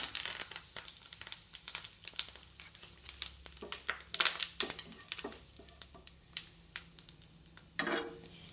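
Fennel seeds and curry leaves hitting hot coconut oil for a cauliflower masala, giving a dense run of sharp crackling pops and spits close by, with no talk over it.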